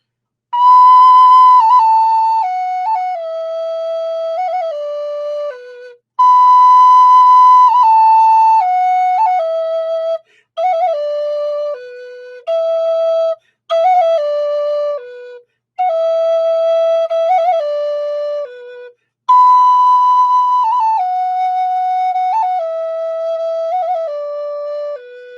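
Native American flute plays descending phrases of clear, sustained notes with trills ornamenting each step down the scale, broken into several separate phrases with short pauses, solo and close.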